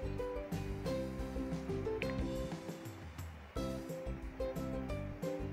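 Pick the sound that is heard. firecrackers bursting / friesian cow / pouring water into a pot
pouring water into a pot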